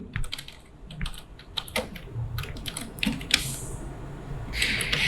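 Someone types on a computer keyboard during a middle-school computer lesson, with quick bursts of close key clicks in an uneven rhythm and a brief hiss of background noise near the end.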